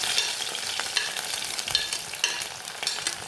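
Mustard seeds crackling in hot oil in a pan while a fish-free Kerala curry is cooked: dense, steady sizzling with scattered sharp pops, close and fairly quiet, no voices.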